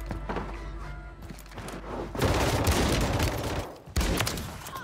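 Shotgun blasts from a 12-gauge in the shooter game Warzone, a couple of loud bursts of gunfire with sharp onsets and ringing tails, one around the middle and another near the end, no talk.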